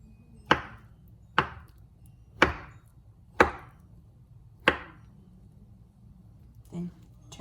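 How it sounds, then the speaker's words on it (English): A knife slicing through a peeled avocado on a cutting board, five distinct evenly spaced chops close up, followed by a softer knock, with no talk. "After you've removed the skin from the avocado, I like to flip them upside down and slice it first."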